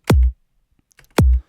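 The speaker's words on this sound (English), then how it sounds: "For the kick, we got this kick. Sounds like this." Two hits from a deep electronic kick drum sample in a Serum remake of a track, each a punchy, booming thump that decays quickly, separated by about a second of near silence.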